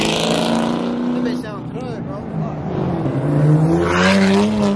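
A twin-turbo Corvette C8 engine roars and revs, its pitch rising and falling as it accelerates, with excited voices shouting over it.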